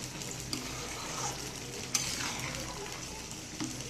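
Pilau rice bubbling in a pot on the stove makes a soft, continuous hiss and sizzle with a few faint clinks, close but quiet throughout.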